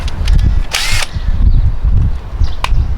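DeWalt power drill boring into a van body during a solar installation, a burst of high whining and grinding around the one-second mark with a shorter whir near the end, loud and close over low rumbling handling noise.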